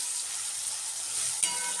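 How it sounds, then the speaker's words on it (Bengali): Spice paste frying steadily in hot oil for a lote (Bombay duck) fish curry, a continuous close sizzle with a brief sharper crackle near the end and no voices. "আর এখন যে মাছটা করব, মশলাটাকে আগে কষিয়ে নিচ্ছি"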